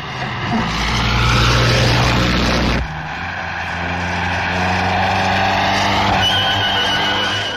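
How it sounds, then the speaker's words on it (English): Vintage French Bugatti race cars in a light car race, engines droning loud and steady with a sharp change partway through, like cars sweeping past, old film sound with no talk. "A team of French Bugattis is in the light car race next day."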